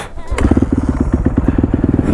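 Honda CRF450 dirt bike ridden with a package strapped on by bungee cords, its engine thumping in a fast, loud, close pulsing rhythm with rattling clatter, no talking.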